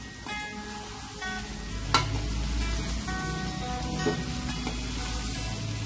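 Gatta masala for Marwari gatta pulao stirred in a hot pan, steady sizzling with intermittent spoon scrapes and a sharp knock against the pan, close and without speech.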